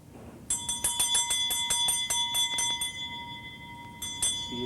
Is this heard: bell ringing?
yes